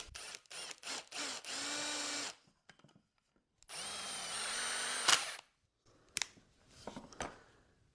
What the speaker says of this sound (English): I'll go ahead and throw a screw in there just because I'm curious to see where it comes out.